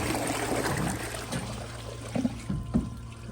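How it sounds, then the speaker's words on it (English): Water poured from a bucket into a Glacier Bay PowerFlush toilet bowl, a steady close rush and trickle that thins out and ends in a few gurgles and drips, with no talking. "So let's go to bucket flush and see what happens."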